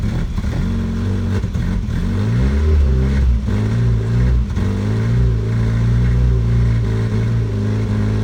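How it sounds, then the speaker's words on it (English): A 1983 Volkswagen GTI engine is revved by hand with the throttle, running loud and close with a steady rumble that rises and falls through several rev swells, with no talk. "I'm playing with the throttle right now to see if I can't get it to"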